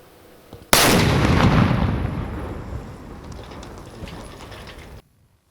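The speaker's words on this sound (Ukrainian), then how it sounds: "Вибух!" A single sudden, loud blast from a police bomb squad's controlled detonation of dangerous ordnance in Sumy region, Ukraine, erupts after a brief quiet, then a long rumbling roar slowly fades over several seconds before cutting off.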